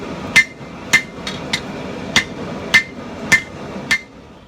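A hand hammer strikes a hot steel Viking sword blade on an anvil while its thickness is tapered, landing about eight sharp ringing blows at an even, unhurried pace, close and alone.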